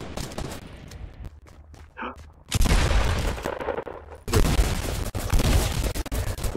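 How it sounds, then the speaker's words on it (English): A minigun firing in Fortnite, loud sustained bursts of rapid gunfire that come in after a few scattered shots and a quieter gap, close and dominant. "Fucking mini gun."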